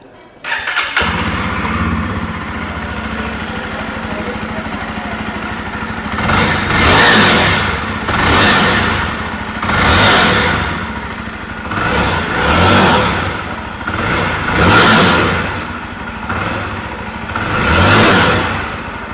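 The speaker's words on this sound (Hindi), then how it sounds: "सो कुछ इस प्रकार से एग्जॉस्ट नोट था जावा 42 ऑल न्यू वेरिएंट्स का" A 2023 Jawa 42 motorcycle starts up and settles into a close, steady idle, then its exhaust swells in a series of rhythmic throttle blips and revs roughly every two seconds.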